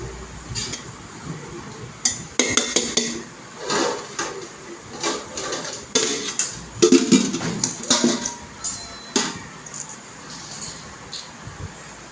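Plates set out one after another for a home lunch of mutton curry, with repeated close clinks, clatters and knocks coming in irregular bursts.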